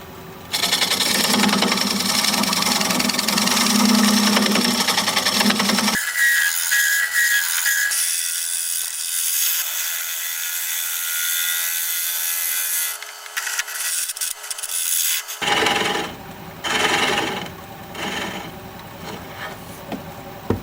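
Aromatic cedar being scraped on a wood lathe: a loud, continuous abrasive rasping of the tool against spinning wood, with a sharp change in tone midway as the cut lightens, then rougher, uneven scraping toward the end.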